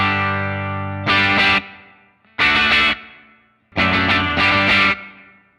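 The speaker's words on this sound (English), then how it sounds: "So that's the dynamic room reverb." Electric guitar run through a Line 6 Helix dynamic room reverb: three loud strummed chord bursts, each trailing into a short, airy room decay, with a sustained ringing tail at the start.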